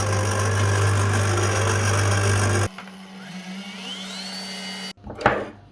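An electric hand mixer blends biscuit dough with vanilla sugar and egg. A loud, steady motor drone runs for a few seconds, drops to a quieter hum, then ends with a brief knock.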